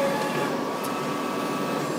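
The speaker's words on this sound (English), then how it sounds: "is our UV printer, where the keycaps are getting printed" A UV printer prints a batch of keycaps in a factory, giving a low, steady mechanical hum and whir with faint tonal whine, continuous and even throughout.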